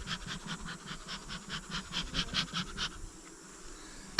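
Honeybees buzzing around an open hive during an inspection, a steady, dense hum with rhythmic swells, fairly close, ending with a brief knock.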